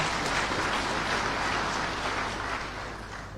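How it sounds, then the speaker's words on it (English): Applause for a government minister at a presidential visit to the Botswana Police Service, a sustained crowd clapping that fills the whole span at a steady level, tapering slightly toward the end, with no talk over it. "Another big round of applause for the minister."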